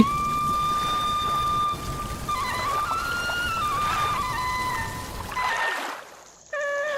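Steady rain patters under a wavering high tone in a Bengali cartoon, then cuts to near silence briefly before the tones return.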